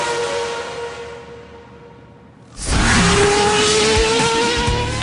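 A Formula 1 race car's engine screams past close by: a quieter fading whine gives way to a sudden loud, sustained high-pitched roar at full speed, with no talking.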